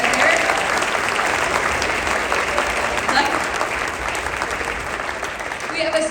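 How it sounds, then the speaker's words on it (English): Audience applause fills a school jazz concert hall, a steady dense wash of clapping that holds strong for about six seconds, with a few voices and a brief tone near the end. "can we give them a round of applause back here?"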